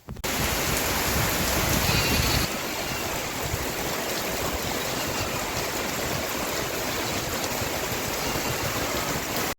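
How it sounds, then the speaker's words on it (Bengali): Steady heavy rain pours down continuously in the Sundarbans, a dense hiss that drops slightly in intensity after the first couple of seconds. "বৃষ্টি এতক্ষণ ধরে হচ্ছে"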